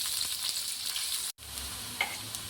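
Onions frying in a pan until brown while being stirred, a steady close hiss of sizzling with light scraping, briefly cutting out for an instant before resuming; no voices.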